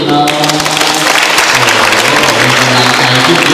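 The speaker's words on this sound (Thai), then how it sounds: "ปรบมือให้คุณสมจิตหน่อย" Applause for a student at a school evaluation event: a dense, sustained burst of clapping from a group, loud and close throughout.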